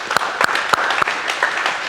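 Brief applause follows a man-to-man defence drill at a basketball coaching session, a light, thin patter of claps with a few distinct louder hits spaced across two seconds.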